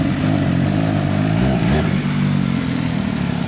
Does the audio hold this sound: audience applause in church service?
no